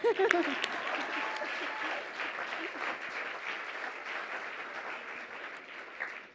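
An audience at a legal pro bono awards event breaks into applause after a speaker's line, a fairly faint but steady bed of clapping that follows a brief voice at the start and continues to the end.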